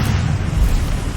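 A Confringo fire spell bursting in the wizarding game Hogwarts Legacy, one short deep booming blast that rumbles heavily in the low end for about a second.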